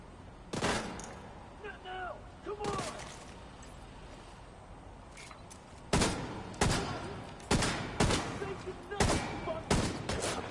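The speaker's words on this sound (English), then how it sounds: "You keep firing that shotgun at me." Gunfire in the video game The Division 2, including shotgun blasts, coming as a run of sharp loud bursts, sparse at first and then in quick repeated shots, with someone talking in between.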